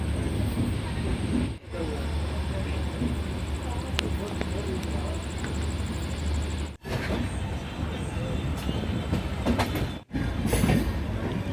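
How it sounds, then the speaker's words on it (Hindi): The Patna Kota Express rushes along at high speed, a continuous loud rumble and clatter of wheels on rails, briefly cut by a few sharp dropouts. "और देखिए गजब के रफ्तार में दौड़ रही है पटना।"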